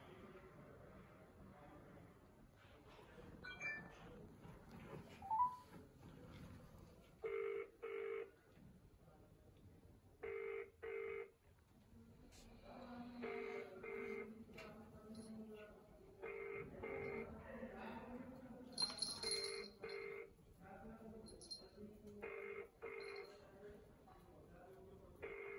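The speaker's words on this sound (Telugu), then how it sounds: "ఈ రాఘవరెడ్డికి కాల్ చేద్దాం" A phone call to a local TV reporter is placed: a run of short touch-tone dialing beeps followed by repeated ringback tones, heard through a phone with some background noise.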